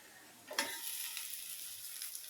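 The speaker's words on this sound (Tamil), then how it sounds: "எண்ணெயில் தான் வேகும் பிரண்டையை" Pirandai (adamant creeper) pieces dropped into plenty of hot oil, a sudden burst of sizzling that settles into a steady, close frying hiss.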